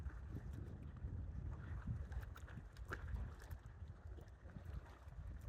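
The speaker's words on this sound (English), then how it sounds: "There's a slight easterly wind" A slight easterly wind blowing on a rocky Anglesey shore, a steady low rumble of wind buffeting the microphone with gusty swells and faint background sound, and no talking.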